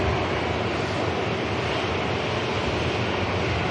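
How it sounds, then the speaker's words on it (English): A Pegasus airliner taxiing at Manchester Airport in rainy weather gives a broad steady jet roar, continuous and moderately loud, with no talking over it. "Pegasus taxiing past"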